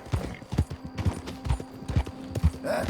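Horse hooves galloping in Red Dead Redemption 2, a steady rhythmic clip-clop of hoofbeats, close and loud, with faint snorting.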